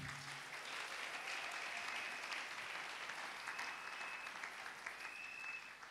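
A church congregation applauding during a morning service, sustained dense clapping from a large crowd that fills the room steadily throughout, with faint cheers mixed in.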